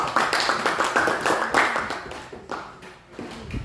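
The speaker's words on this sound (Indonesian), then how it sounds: "tepuk tangan buat kelompok 3" Classroom clapping for a student group during a math lesson: a short burst of many hands applauding together, fairly close, dense at first and thinning out toward the end.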